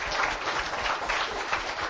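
A crowd at a local Grand Prix event applauds the town's mayor and vice mayor, a steady wash of many hands clapping, fairly close and sustained through the whole moment.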